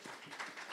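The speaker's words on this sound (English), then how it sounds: "A round of applause for entire Mahi team as well as Neredco Secretariat." Audience applause fills a convention hall at a real estate developers' gathering, a steady wash of many hands clapping close and moderately loud throughout the brief moment.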